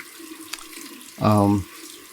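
A bathroom tap runs briefly to rinse alum off the face after a safety-razor shave, a short close gush of water that stops abruptly.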